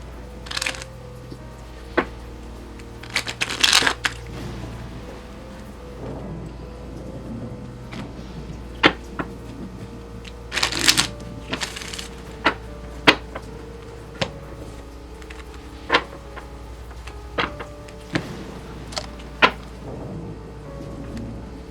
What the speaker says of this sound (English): in between readings, I do deep shuffles